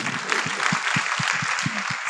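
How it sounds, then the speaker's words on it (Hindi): A studio audience applauds a woman guest in a steady, dense wash of clapping, with soft low thuds pulsing through it. "एक बार तालियां इनके लिए।"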